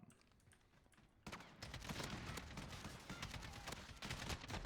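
Rapid gunfire in a Call of Duty match on PC: quiet at first, then a sudden sustained burst of automatic shots with sharp repeated cracks, fairly soft overall and with no talk over it.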